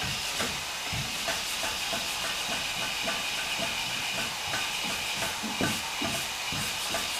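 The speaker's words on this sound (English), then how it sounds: "I got to get the sandpaper on this edge" Sandpaper rubbed by hand over Bondo body filler along the edge of a car fender, a steady hissing scrape in repeated short strokes, close and continuous with no talking.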